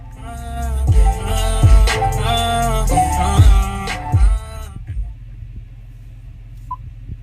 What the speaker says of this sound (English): let me show you how the audio system sounds like